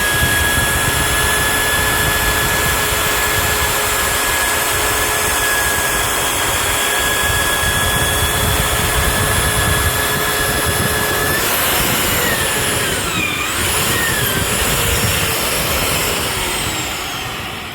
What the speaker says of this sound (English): all fresh annular cutters usually pop the center out pretty easy